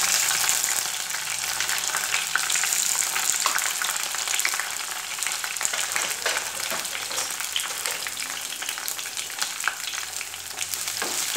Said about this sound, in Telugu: తర్వాత ఉల్లిపాయలు వేసుకున్నానండి.